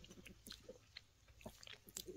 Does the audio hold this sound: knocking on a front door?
no